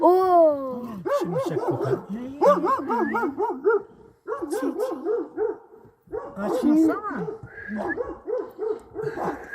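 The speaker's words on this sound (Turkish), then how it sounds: "O kadar havladı ki kızdırdı sonunda." A dog barks repeatedly at a bear beside a rubbish container on Uludağ mountain, the barks coming in rapid bursts with short yips and whimpers, loud and close, with people talking.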